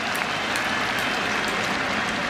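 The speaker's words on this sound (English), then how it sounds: "They're just going to go on clapping." A cricket crowd keeps up loud, sustained applause for Alastair Cook's century in his final Test match, a dense wash of clapping that goes on unbroken.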